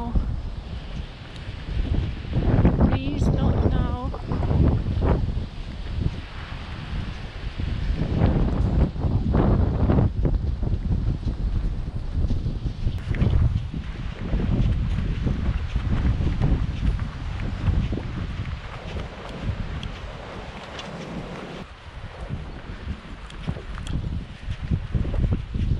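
Strong Storm Nelson gusts on a coastal hike between Arrifana and Vila do Bispo, a continuous heavy roar buffeting the microphone with rumbling surges throughout, close and loud.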